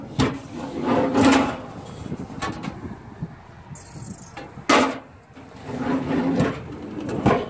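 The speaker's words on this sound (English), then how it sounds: "Then there's a pull-out two-burner stove." A pull-out two-burner stove in a fifth-wheel RV rolls out with a few soft thumps and scrapes, close by, amid light handling noises.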